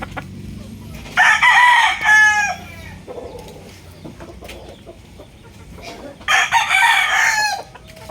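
A Sweater gamefowl rooster of PMM Game Farm bloodline crows twice, each loud, raspy call lasting about a second, separated by quieter clucking and faint background farm noise.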